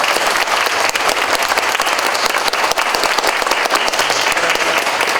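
A crowd gives loud, sustained applause for Juancito Báez at a Guarania tribute evening in Ciudad del Este, a dense and continuous roar of clapping close to the listener that never lets up.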